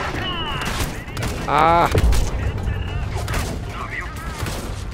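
Bursts of gunfire in the shooter video game Homefront, played on Xbox One, with loud shots and a heavy boom mixed with game effects while someone shouts briefly.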